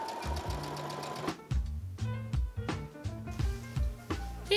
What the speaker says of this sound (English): I'm going to turn this edge down and pin it in place and sew it